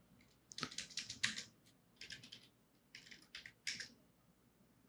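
Bursts of typing on a computer keyboard as a command is entered in a command prompt, several short clusters of quick, close key clicks separated by brief pauses.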